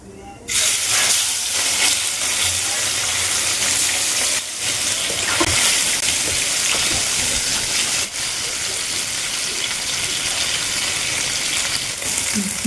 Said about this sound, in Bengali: এবার আমি পনিরটাকে একটু ভেজে নেব